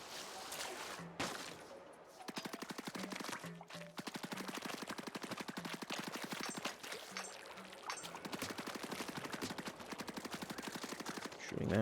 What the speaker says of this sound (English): Shooting that does nothing.